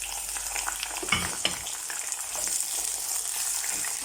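Raw potatoes tumble into browned onions in hot ghee for a capsicum and potato dish, with a couple of clattering drops followed by a loud, steady sizzle and light stirring, no talking.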